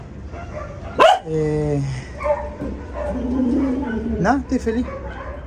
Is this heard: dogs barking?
yes